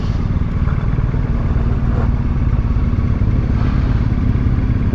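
A motorcycle rolls into Applecross Campsite on the North Coast 500, its engine a loud, steady, rumbling putter with rattling clatter throughout, heard close and alone.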